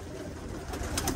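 Soft, low pigeon cooing close by at a military camp, a brief steady murmur with faint background noise.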